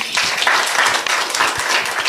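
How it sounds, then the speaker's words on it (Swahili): A crowd at a governor's press briefing applauds the minister, with brisk, close clapping that rises quickly and stays fairly even for a couple of seconds. "Makofi kwa waziri"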